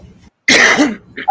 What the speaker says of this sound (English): that's you coughing.